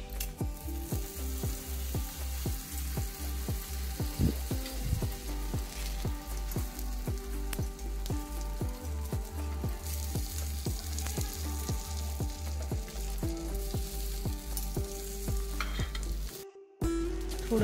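Kutchi dabeli buns sizzle steadily in a pan with butter as they are flipped, a loud continuous frying hiss broken by rhythmic scraping and tapping over steady background tones.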